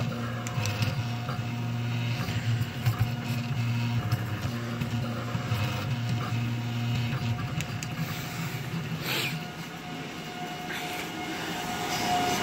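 Four 3D printers run together in a room, giving a steady whirring hum with a constant tonal drone and small irregular mechanical shifts.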